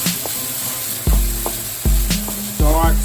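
St. Louis style fried rice sizzling in a hot pan while being mixed, a steady loud sizzle broken by repeated sharp scrapes and clanks of the utensil against the pan, with no talk.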